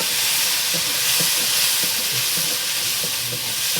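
Chili and cumin powder stirred into food frying in a pan, a steady close sizzle and hiss with soft rhythmic scraping of the spoon throughout, no voices.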